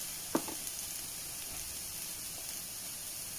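Vegetables softening in a hot pan give off a steady close hiss of sizzling, with a quick sharp crackle near the start and then an even frying wash to the end.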